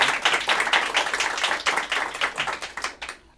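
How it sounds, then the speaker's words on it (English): Audience applause for the Deputy Secretary of the U.S. Department of Housing and Urban Development at a housing policy event, a steady patter of clapping lasting a few seconds at moderate level before tapering off at the end. "Big round of applause for the Deputy Secretary."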